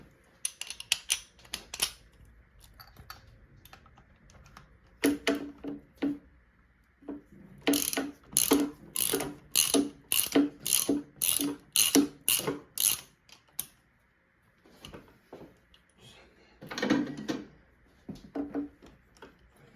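A ratchet wrench loosening spark plugs on a Hayabusa 1300 motorcycle, close-up bursts of rapid clicking, with one long run of evenly spaced ratchet strokes in the middle and quieter gaps between.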